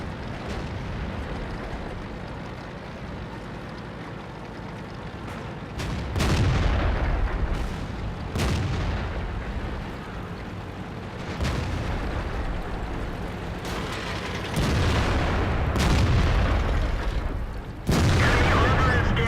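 ISU-152 tank destroyer cannon firing in World of Tanks, a few heavy booming blasts spaced through the clip over a steady engine rumble, loud and close.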